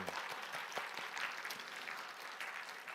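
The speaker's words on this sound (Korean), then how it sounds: "우리 축복의 박수로 환영을 하겠습니다." A church congregation at a Wednesday prayer service claps in welcome for visiting missionaries, a soft, fairly distant, even patter of many hands with a few sharper individual claps standing out.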